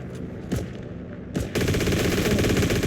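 Gunfire in the video game Heroes and Generals: two single sharp shots, then a sustained rapid burst of automatic fire that rattles on loudly to the end, with no talk over it.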